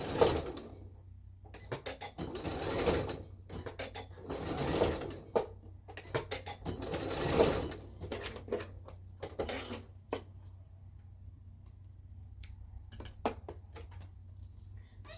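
A sewing machine stitches back and forth on a blouse in short bursts of rapid mechanical whirring, separated by quieter pauses and a few small clicks and taps, heard up close.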